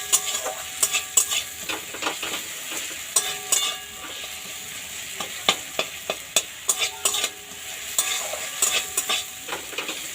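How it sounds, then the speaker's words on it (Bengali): Tomato cooks on low gas in a pan for a Poush Sankranti dish, giving a steady soft sizzle while a spoon repeatedly scrapes and clinks against the pan in irregular strokes, close and fairly loud, with no talking. "এই সময় গ্যাসের আঁচটা কমিয়ে রেখে দিয়েছি টমেটোটা গলার জন্য"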